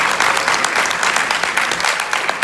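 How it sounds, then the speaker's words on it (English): An audience gives a makeup artist a big round of applause, loud close clapping from many hands that stays steady throughout. "Let's give her a big round of applause"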